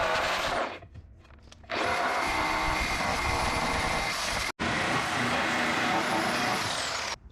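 A power buffer runs loud and steady against an aluminum wheel, giving a roaring whir. It drops briefly near the start, then cuts out for a moment and comes back, with no talk over it.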